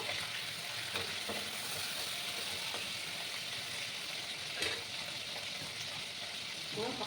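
A dried red chilli fries in hot mustard oil in a pan used earlier for prawns, making a continuous close sizzle broken by a few soft utensil knocks.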